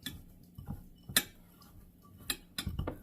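A spoon stirs a brown sugar mixture for baked apples in a bowl, making quiet scrapes and a few sharp clinks against the bowl at uneven intervals, close and soft, with no talking.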